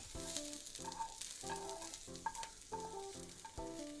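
Onions fry in a pan with a soft, steady sizzle, faint and close, while an irregular tonal pattern repeats over it.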